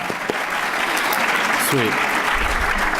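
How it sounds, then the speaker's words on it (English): A college lecture audience applauds in a sustained wave of dense, loud clapping from a room full of people, with a brief spoken word over it. "everyone give him a round of applause, please"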